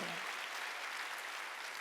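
A large church congregation applauds during a worship service, a dense, steady wash of clapping that holds evenly throughout.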